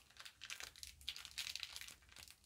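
Crinkly foil Pokémon Sun & Moon booster pack being pried open by hand, a steady run of close, bright crackling and crumpling with small tearing bursts throughout, no voices.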